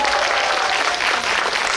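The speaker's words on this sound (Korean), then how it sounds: "박수 한번 부탁드릴게요." Audience applause at a Korean film screening Q&A for the movie The Moon, a dense, steady wash of clapping from a crowd that holds evenly throughout, loud and close with no speech over it.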